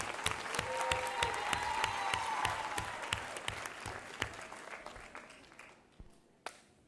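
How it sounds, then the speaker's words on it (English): A round of applause from an audience at a celebrity dance-off event, quiet and distant, a fairly dense patter that thins into a few scattered claps and then fades out. "Let's give a round of applause."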